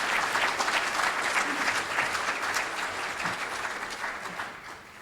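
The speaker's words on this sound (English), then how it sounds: "let's give all these people who participated a round of applause." Sustained applause from a large audience at the Sonoma County Economic Summit, a steady dense patter of clapping that tapers slightly toward the end.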